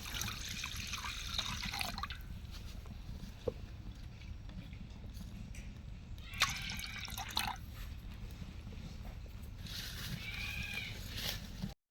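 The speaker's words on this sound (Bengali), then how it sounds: "তো এখন দিয়ে দেবে কড়াইতে পানি।" Water pours into a wok over a continuous wet, splashy trickle and drip, with a couple of louder bursts of pouring partway through and near the end. No voices are heard.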